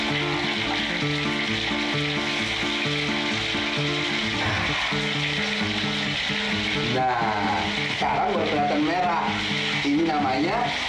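Fish sizzles steadily in hot oil, frying for a dish of fried fish with tomato chili sauce. The sizzle is loud and constant, with voices and music over it in the second half.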